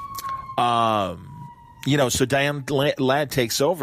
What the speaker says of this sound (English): if you can hear the ambulance in the background.